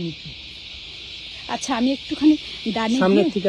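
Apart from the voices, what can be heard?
crickets chirping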